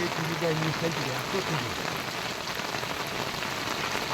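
Steady rain pours onto a small river fishing boat, a dense, close patter of drops filling the scene, with brief voices at the start.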